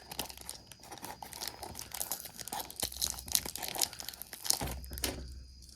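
Tape being cut and peeled off parts of a 1946 Lionel 1405W train set under restoration, with close crinkling, tearing rips and scissor snips in an irregular stream, ending in one sharper pull.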